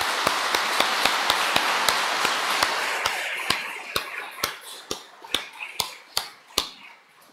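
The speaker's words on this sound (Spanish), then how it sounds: "Ahora el aplauso para Cristo nuestro Señor." A church congregation at Sunday Mass applauds, dense clapping at first that thins out into scattered, distinct individual claps echoing in the hall, fairly faint overall.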